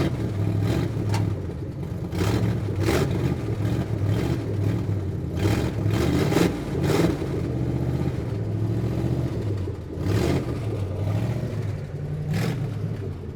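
A car engine with a low tire runs steadily in reverse, a continuous mid-pitched drone with rhythmic clatter and brief louder surges, close by throughout with no talk.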